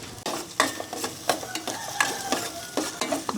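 Onion, ginger and garlic stirred into hot cooking oil in a pan, with a steady close sizzle broken by repeated scraping stir strokes and light utensil clinks, no talk.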